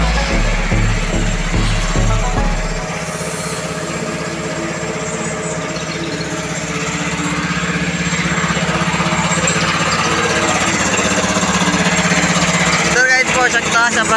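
A motorized water-spraying machine for a field runs steadily with a continuous engine drone and a high whine, near and loud. A brief low thumping is heard at the start and a voice talks over it.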